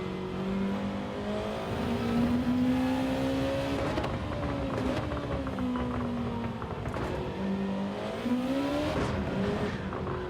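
A race car in Gran Turismo 7 floored out of a corner during an online race warm-up, engine rising through the revs with quick upshifts, a steady loud drone with repeated pitch climbs and drops.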